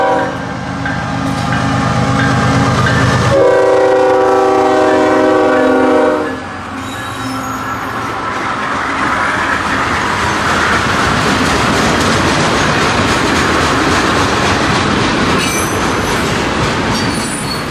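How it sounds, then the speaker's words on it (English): Freight train M441, led by a GE ES44AC locomotive with an older AC4400CW trailing, sounds a loud horn blast close by, followed by the roar of engines and wheels rolling past. "Led by a GE ES44AC with an old AC 4400 CW trailing, M441 is daily overnight freight service from Waycross,"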